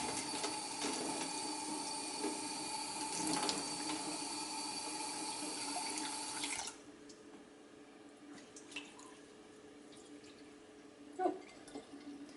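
Water drains from rinsed red lentils into a kitchen sink with a steady, close rushing splash. About halfway through it drops off abruptly to faint trickles and drips.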